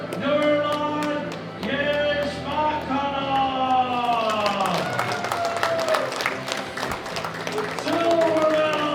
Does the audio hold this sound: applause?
yes